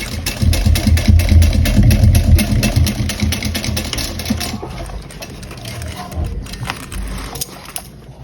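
A sewing machine top stitches across a bag gusset, running in a fast, steady mechanical chatter up close, then slowing and easing off into lighter, intermittent stitching toward the end.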